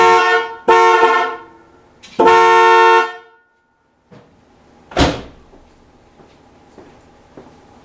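Rebuilt original GM Delco horns on an IROC-Z blare in two loud, close blasts, followed by a door slam and a few softer knocks as things settle.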